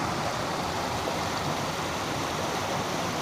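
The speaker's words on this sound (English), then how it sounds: "You can see it across the way there, just a little cascade." A small cascade on Little Rough Creek pours into the Conasauga River in the Cohutta Wilderness. It makes a steady broadband rush of falling water that stays even and unbroken throughout, with no voices.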